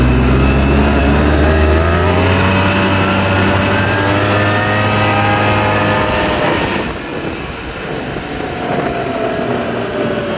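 A 2006 Polaris Sportsman 800 ATV accelerating hard, its engine whine climbing steadily in pitch for several seconds, then easing off into rushing wind and road noise, loud and close.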